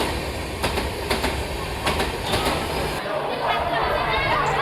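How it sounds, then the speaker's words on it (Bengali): Capital Express passenger train arriving at a station, with a steady rumble and rhythmic clicks of wheels over rail joints, and faint chatter from people nearby. "অবশেষে আসলো আমাদের ক্যাপিটাল এক্সপ্রেস।"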